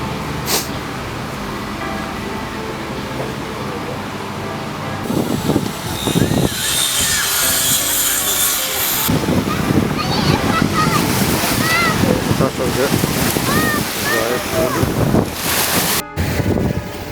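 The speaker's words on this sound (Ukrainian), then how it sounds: "Зараз ми спускаємось вже до моря." Sea waves washing onto the shore at Arcadia beach in Odesa on the Black Sea, a steady surf wash with wind buffeting the microphone, growing busier in the second half, with voices nearby.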